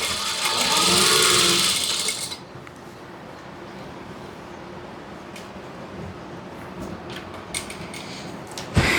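A sewing machine stitching a chudithar whirs in a short burst at the start, then falls to a quiet room hum with faint mechanical ticks and clicks.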